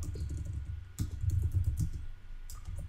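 Quick bursts of close keystrokes on a computer keyboard as a router command is entered in a networking lab, with clustered clicks and a short pause midway.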